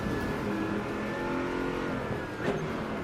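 Gear upshifts in the Project Motor Racing sim, quick shift clicks over a steady, loud race-car engine drone with one brief sharper burst near the end.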